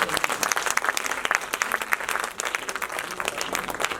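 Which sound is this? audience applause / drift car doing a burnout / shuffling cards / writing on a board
audience applause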